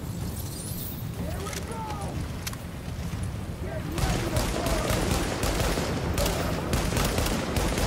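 Gunfire from The Division video game: a dense barrage of overlapping shots and automatic bursts, thin at first and then louder and heavier from about four seconds on, with voices in the game mix.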